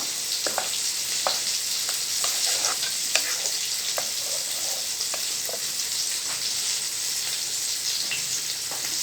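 Molokhia with shrimp simmering in a pot while being stirred, a steady bubbling sizzle with intermittent scraping stir sounds throughout.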